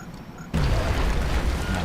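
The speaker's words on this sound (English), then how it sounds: "Throwing grenade." A grenade goes off in a first-person shooter video game: after half a second of near quiet, a sudden heavy boom erupts and rolls on as a loud, sustained low rumble to the end.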